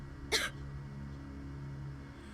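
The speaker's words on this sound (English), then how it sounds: "Moika gave a painful cough and then spit up some stomach fluid mixed with blood." A single short, pained cough bursts out once near the start in the game Steins;Gate 0, then gives way to a steady low hum of background music.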